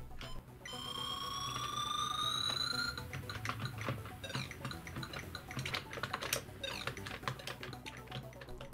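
Typing on replacement keys fitted to a ZX Spectrum keyboard: an irregular run of light, quick clicks and taps after a steady electronic tone fades out, with no voices.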